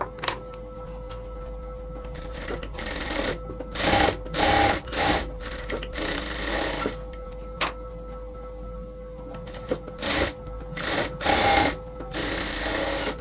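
A sewing machine stitches the sleeve of a nighty in repeated short bursts of running, with quiet pauses and small clicks between them.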